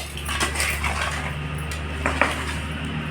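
Metal spoon clinks and scrapes against a pot while fried amla (Indian gooseberry) pieces are stirred into pickle, with a few sharp taps over a steady background hum.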